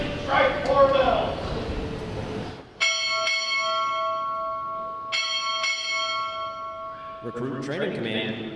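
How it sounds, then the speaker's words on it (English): A ship's bell rings four times in two quick pairs at a U.S. Navy recruit graduation ceremony, each strike clear and ringing out long. Voices can be heard before the bells and after them. "strike four bells"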